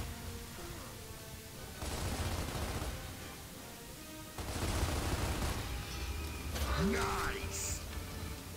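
Gunfire bursts from the co-op shooter game Gears of War: Ultimate Edition, two dense sustained volleys of rapid shots crackling loudly, with a steady low rumble beneath and a brief rising whoosh near the end.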